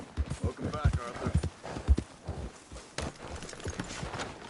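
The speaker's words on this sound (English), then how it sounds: "Get that horse out of here!" Horse hooves clip-clop in a Red Dead Redemption 2 style western video game, a steady close clatter mixed under game characters talking.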